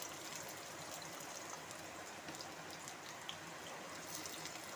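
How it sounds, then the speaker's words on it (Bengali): Bay leaf and chopped onion frying in hot white oil for a Bengali peanut bharta: a steady, soft, even sizzling hiss throughout, with faint crackles and no voices. "আমি প্রথমে দিয়ে দিচ্ছি তেজপাতা ফোড়ন, তারপর দিয়ে দিচ্ছি পেঁয়াজ কুচি"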